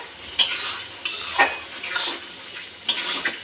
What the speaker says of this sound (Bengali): এবার একটু নেড়ে